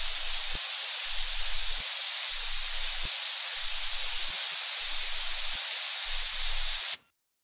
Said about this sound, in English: Guys, get the spray.